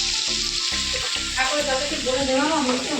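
Ginger, green chillies and spices hit hot oil in a pan with a loud, close sizzle that swells into steady crackling frying, with stirring throughout and no speech.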